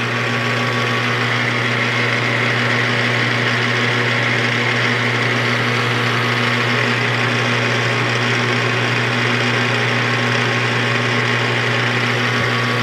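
Machine cutting a small oil ring held in a fixture, only lightly taking material: a loud, continuous, steady whirring drone with a strong low hum, unbroken throughout.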